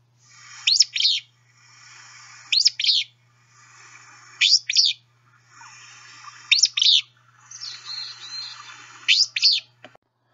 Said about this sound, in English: The willow flycatcher also has a very distinctive song.